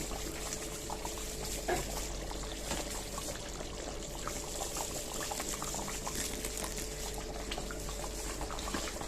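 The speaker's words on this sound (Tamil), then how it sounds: "கொதிச்சு வரட்டும். கருவாட்டு குழம்பு ரெடி." Dried fish curry bubbling steadily in a pot on the stove, a continuous low simmering hiss with soft popping bubbles, close and unbroken, no voices.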